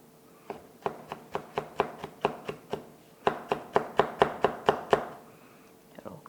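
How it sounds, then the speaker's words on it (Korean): A knife cutting red chili pepper on a cutting board, about eighteen crisp, evenly spaced chops in two runs with a short pause between them, close and clear. "홍고추를 10십자를 내시고 칼집을 조금만 더 내주셔서"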